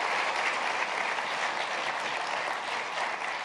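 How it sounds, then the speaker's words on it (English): Audience applause at a college opportunity event, an even, sustained roar of many hands clapping with no breaks, moderately loud and heard alone. "Let's give them a round of applause as well."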